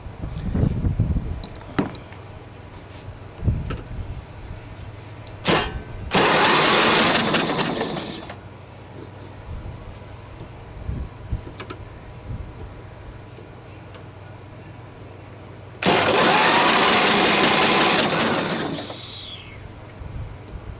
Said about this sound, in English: Cranking now. With the spark plug out of it.